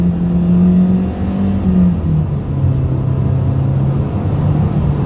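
A Mitsubishi Eclipse Cross accelerating while shifted with paddle shifters, its engine droning close and loud from inside the cabin with a couple of dips in pitch as gears change, steady road rumble underneath and no talking.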